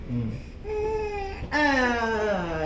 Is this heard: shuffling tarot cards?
no